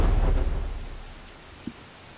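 Rain and thunder in the game The Wizards: a deep rolling thunder rumble fades out over a hiss of rain, with a faint low thump near the end.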